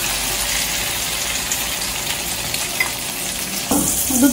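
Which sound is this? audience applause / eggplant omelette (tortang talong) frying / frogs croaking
eggplant omelette (tortang talong) frying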